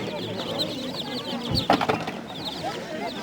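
Rapid high-pitched peeping from a baby chick at a market in Dargeçit, Mardin, repeated throughout at close range, with a brief clattering handling noise midway.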